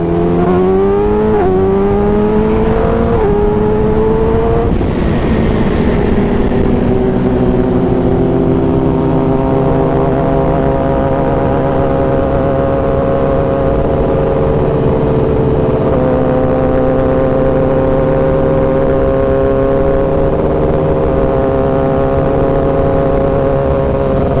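A group of sport motorcycles including an S1000RR, HP4, ZX-10R, GSX-R1000 and Monster 796 riding fast, with loud, continuous engine drone and shifting revs as bikes pull through gears close by.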